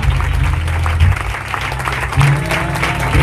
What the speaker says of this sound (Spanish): Alguien puede aplaudir a Dios hoy.